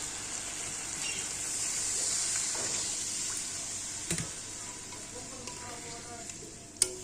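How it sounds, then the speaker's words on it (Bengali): Potatoes and onions fry with spices in a pan, giving a steady, moderately loud sizzle with occasional stirring clinks and scrapes, followed by a sharp knock near the end. "আলুটা পেঁয়াজটা একটু ভাজা ভাজা করব, তারপর মশলা দিব।"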